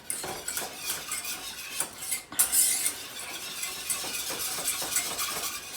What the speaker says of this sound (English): And you want to whisk it.